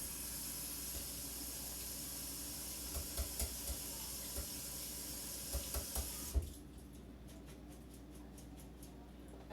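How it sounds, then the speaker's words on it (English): A tap runs steadily in a kitchen sink while an onion is washed under it, a continuous hissing stream with scattered knocks and clatters, cut off abruptly partway through, leaving quiet room tone. "I love washing an onion before I use it"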